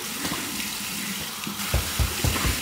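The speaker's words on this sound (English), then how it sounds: "here is my cold water rinse" Cold water runs from a tap for a rinse after shaving, a steady hiss of flowing water with a few soft splashes near the end.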